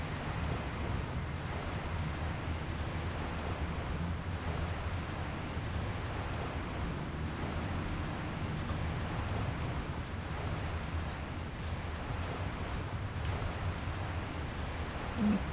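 Water in an Elder Scrolls game area, a steady wash like surf or a rushing stream, with low rumble and wind-like noise running continuously at an even level, with faint ticking accents in the second half.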